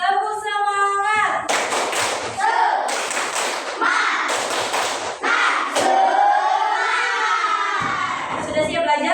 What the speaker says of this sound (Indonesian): Es breakingnya tepuk semangat, bisa?